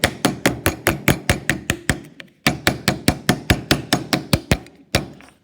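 A metal dish being beaten into shape with a hammer, sharp ringing blows landing in two rapid, steady runs of about a dozen strikes each with a brief pause between, close and loud with no talking.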